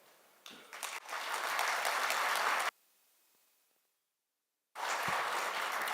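A conference audience claps steadily for a couple of seconds, stops into near silence, then a fresh burst of applause starts up.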